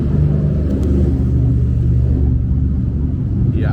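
Close and loud, a car's engine rumble and tire noise hold steady as it passes by, with no voices heard.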